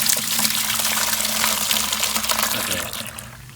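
Rusty, dirty coolant water pours steadily from a car's removed radiator reservoir, a continuous close gush of liquid splashing throughout, during a radiator flush on a 1999–2004 Ford Mustang.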